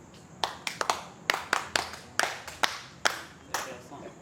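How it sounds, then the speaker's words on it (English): A few people clap for themselves in a classroom reading lesson, about a dozen separate claps in an uneven, sparse rhythm, fairly close and clear, with quiet room noise between. "Applaudissez pour vous-même."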